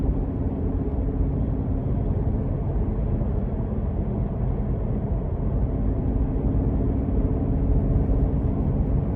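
A supercharged 6.2-liter V8 in a 2022 Cadillac CT5-V Blackwing, a steady, deep, dense rumble heard from inside the cabin under light throttle, continuous and unbroken with no talking.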